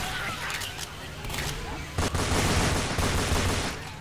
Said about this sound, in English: Exploding bullets, guys.